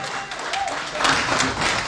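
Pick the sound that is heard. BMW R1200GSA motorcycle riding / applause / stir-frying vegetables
applause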